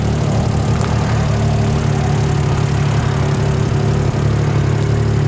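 A Can-Am X3 XRS side-by-side warms up with a loud, steady low idle rumble, close and continuous with a constant engine drone and no voices.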